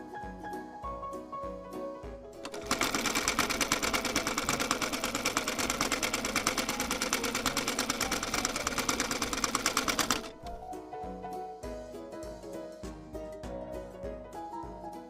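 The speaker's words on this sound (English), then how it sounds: "I use knit stitch to sew this turban headband." A home sewing machine runs a knit stitch along stretchy fabric for a turban headband. It makes a loud, fast, steady whir for about seven seconds, with soft background music before and after.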